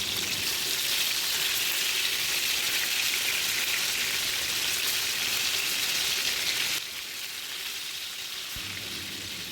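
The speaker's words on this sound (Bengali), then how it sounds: "তো এভাবে আমি মাছের সব পিসগুলোকে উলট পালট করে হালকা ভাজি দিয়ে নিলাম" Pieces of hilsa fish fry in hot oil with a dense, steady sizzle like light rain, loud and close, easing slightly toward the end as the pieces are turned.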